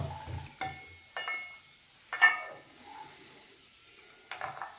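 Cashews and raisins fry in ghee in a pan, giving a faint, quiet sizzle broken by a few sharp stirring clicks and scrapes against the metal.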